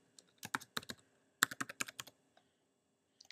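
Computer keyboard being typed on as a password is entered, two quick bursts of soft key clicks separated by a short pause, with a few stray taps after, faint and close.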